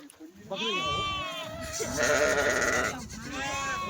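Kathiawari goats bleat loudly and close by, several wavering calls in a row, with a person talking over part of it.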